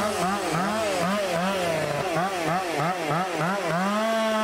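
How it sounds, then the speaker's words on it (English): A Stihl 661C chainsaw whines loudly and steadily, its pitch rising and dipping in repeated surges as it bites into charred timber. "Garrett is using a steel 661C chainsaw"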